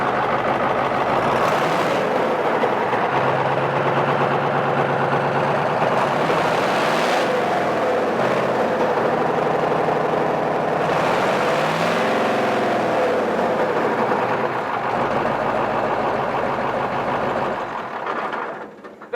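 A vehicle engine, checked to be out of gear, starts and settles into a steady, loud idle with a low rumble and a few revs swelling and falling, then fades near the end; nobody speaks.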